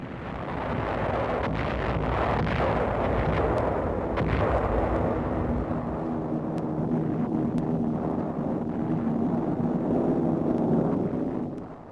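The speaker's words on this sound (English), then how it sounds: "the destroyers and cruisers move in to join the air attack with a heavy bombardment" Heavy naval bombardment by destroyers and cruisers in 1944 wartime footage, a sustained roar of rumbling gunfire with sharp reports now and then, distant and continuous, with wind and engine drone underneath and no voices.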